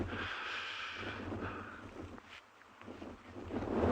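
Cold biting wind blowing across an open safari landscape at sunrise, a faint steady rushing with low rumbling gusts buffeting the microphone, swelling again toward the end.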